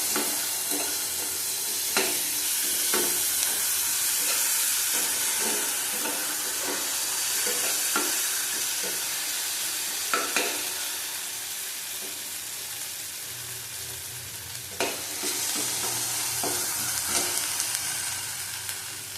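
Garlic and ginger paste sautéing in a pan for an egg curry, a steady loud sizzle with occasional scraping and stirring taps throughout, no talk.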